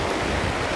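Ocean waves washing steadily onto the shore at a sanctuary in Ternate, Cavite, a continuous broadband rush of surf heard close with some wind, no voices.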